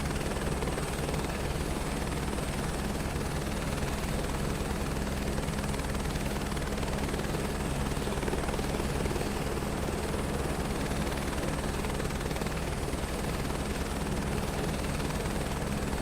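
Helicopter rotor and engine in Microsoft Flight Simulator 2024, a constant loud whirring drone with steady rotor chop and no talk over it.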